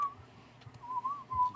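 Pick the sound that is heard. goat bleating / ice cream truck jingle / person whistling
person whistling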